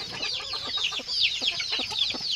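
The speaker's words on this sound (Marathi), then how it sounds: "ही कोंबडी बसलेली" A broody hen sitting on eggs and hatching chicks makes repeated soft clucks and murmuring calls, close by, with high peeping from chicks chirping steadily over them.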